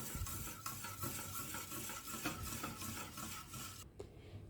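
Pandan batter for Palembang lapis makjo cake is stirred in a bowl, a close, continuous wet swishing with soft rhythmic scrapes against the container, ending in a brief clink and sudden quiet.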